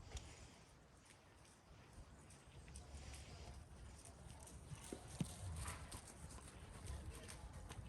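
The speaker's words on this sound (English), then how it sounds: "you can come trot straight up the line as well, Kathy." Faint rhythmic hoofbeats of a horse trotting, heard at a distance beneath steady outdoor background noise, with no speech.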